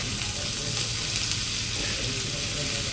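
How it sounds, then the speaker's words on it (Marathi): Masala for mutton curry frying in a pan, a steady loud sizzle throughout with a constant hiss and no break. "चला तर हा मसाला भाजून झालाय बघा, लालसर झालाय"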